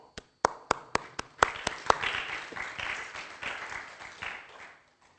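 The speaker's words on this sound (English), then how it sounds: "it's a good opportunity to clap your hands" An audience claps after a DevOps conference talk, opening with a few sharp, separate claps that quickly spread into moderate, fairly distant applause, then fade out.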